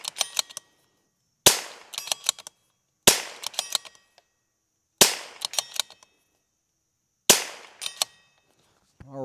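Rim-X rimfire conversion firearm firing a series of sharp, loud reports, each shot followed by a quick burst of mechanical clatter and echo, spaced about one and a half seconds apart outdoors.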